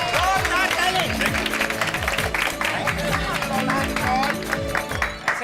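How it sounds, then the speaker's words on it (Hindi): Crowd of people clapping loudly for Nand Kumar, a steady burst of applause mixed with rhythmic background music throughout. "एक बार जोरदार ताली हो जाए नंद कुमार जी के लिए, जोरदार ताली"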